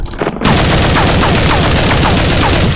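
Loud, continuous automatic gunfire from a PC shooting game, fired in rapid repeated bursts that fill the whole stretch with no one talking over it.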